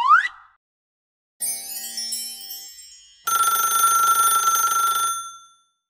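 A telephone rings with an incoming call on a children's radio call-in show, heard as short bright electronic chimes followed by a sustained shrill ringing burst, loud and alone.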